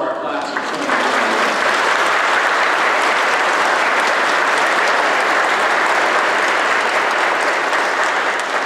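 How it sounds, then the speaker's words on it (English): Congregation applause filling a United Methodist church sanctuary after a traditional Sunday service, loud and sustained for about eight seconds with no talk over it. "Let's give a round of applause for our class."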